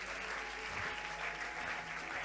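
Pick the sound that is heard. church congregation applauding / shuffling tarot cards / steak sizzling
church congregation applauding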